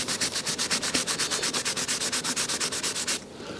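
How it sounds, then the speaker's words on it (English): Filler on the body panel of a 2016 Fiat 500 is hand sanded with quick, even back-and-forth strokes, a close, steady rhythmic scratching that stops abruptly near the end. "You just want to sand it down so it's as flat as you can get it"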